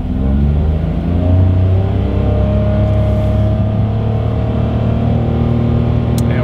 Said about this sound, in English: let's see how quickly we can get our new 2022 Mitsubishi Mirage here up to speed.